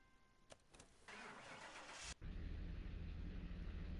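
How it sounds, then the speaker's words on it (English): A car engine cranks briefly, then catches and settles into a steady, low idle rumble. "So you can hear this car"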